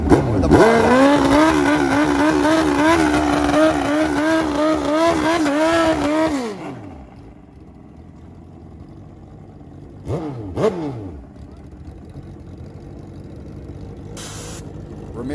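Pro Mod drag racing motorcycles, including a Suzuki, run down the strip: a loud, near engine roar with rising gear-change revs for several seconds, then a sharp drop-off as the bikes pull away, followed by quieter track ambience and a couple of brief engine bursts.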